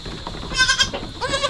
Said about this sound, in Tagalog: Sa ngayon may 14 tayo na mga kambing na mga maliliit.